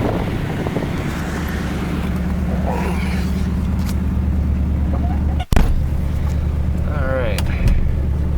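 A 1972 Corvette engine idling on a cold day outdoors: a steady, loud low rumble with wind buffeting the microphone and one brief dropout midway.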